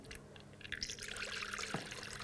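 Coolant poured through a funnel into the reservoir of a 2011-2018 Volkswagen Jetta 2.0L L4 makes a faint, soft trickle and gurgle, alone and close by.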